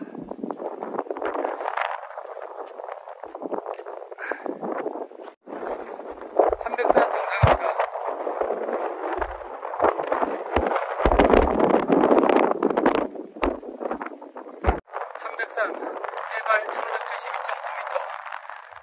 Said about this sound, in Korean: 겨울에 왔을 때도 한백산 정상에는 바람이 아주 심하게 불었는데요. 여름에 와도 바람은 아주 여전합니다.